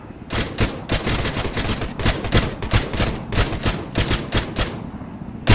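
Sustained gunfire from an ArmA 3 firefight, rapid repeated shots in dense bursts crackling loudly and steadily across the whole stretch, with no voices heard.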